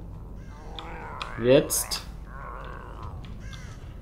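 A raven in the survival-horror game The Evil Within 2 lets out a few harsh, rasping caws clustered near the middle, fairly close, while someone talks quietly around them.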